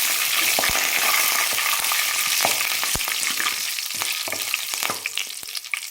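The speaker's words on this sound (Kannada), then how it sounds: "ಇದಕ್ಕೆ ಕರಿಬೇವು ಸೊಪ್ಪನ್ನ ಹಾಕ್ಕೊಳ್ತಾ ಇದ್ದೀನಿ." Dried red chillies and curry leaves fry in hot oil for a puliyogare tempering, a continuous close sizzle punctuated by sharp spoon taps and scraping as the mixture is stirred.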